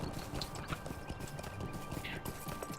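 A horse's hooves clip-clop steadily as it is ridden along a racing course in the Lord of the Rings Online game, a quick continuous gait over a dense game soundscape.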